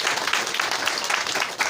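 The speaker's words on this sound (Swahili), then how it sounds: "Yeni makofi." A church congregation claps together, a dense burst of applause that fills the short moment at fairly close range.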